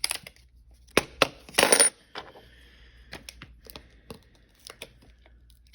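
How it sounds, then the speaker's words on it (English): Several old world coins, including a half penny, flipped over by hand on a surface, giving a few close, sharp metallic clinks and brief handling rustles spread over several seconds. "I'm going to flip these 3 coins up real quick"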